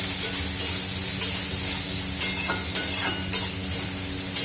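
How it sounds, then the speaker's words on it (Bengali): Chopped onion sizzles and fries steadily in a hot pan, with a continuous crackling hiss and a few soft stirring scrapes, close up with no talk. "এই যে পেঁয়াজ কুচিটা দেবো, কেন পেঁয়াজ কুচিটা দিলে বেশ স্বাদ লাগে।"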